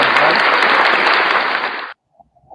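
Loud round of applause during a Friday night live stream, dense clapping close to the microphone that cuts off abruptly, followed by near silence with a few faint sounds.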